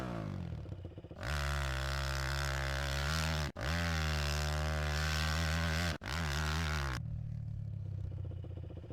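An ATV engine in the PS2 game ATV Off Road revs up loudly and holds a steady, rising drone, with two brief cuts before stopping, then a quieter idle hum remains.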